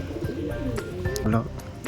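Pigeons coo while feeding, adults and young together, low throaty calls close by mixed with a person talking.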